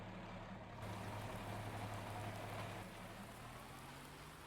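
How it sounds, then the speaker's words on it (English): Steady rain in the video game Farming Simulator 19 on a farm with hay out in the field, a dense even hiss over a low engine hum, constant throughout. "As you can see, it is started to rain"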